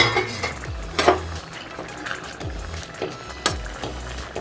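A cooking pot of capsicum and dal kootu opened after simmering, with a few sharp, close metallic clinks and scrapes of the lid and utensils against the pot, separated by quieter gaps.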